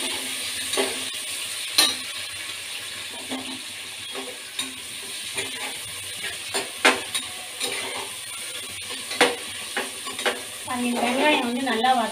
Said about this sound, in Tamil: இப்போ வெங்காயம் சேர்த்துக்கலாம்